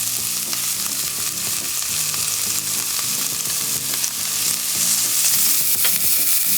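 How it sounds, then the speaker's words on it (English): Diced onion and jalapeno fry in olive oil in a curry pan, giving a steady, close, dense sizzle with crackling pops throughout and no speech. "add the diced onion and jalapeno and reduce the heat to medium"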